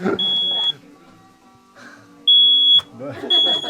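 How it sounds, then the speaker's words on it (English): A smoke alarm sounds during cooking, giving three sharp, high electronic beeps of about half a second each, loud and close, while people talk between and around them. "if the fire alarm doesn't go off when you're cooking, you're not doing it right"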